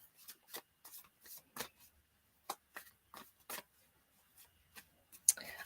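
A gilded tarot deck being shuffled by hand, giving repeated short papery riffles and rubs in uneven bursts, close and fairly quiet, with no talking.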